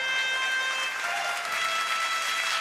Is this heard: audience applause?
yes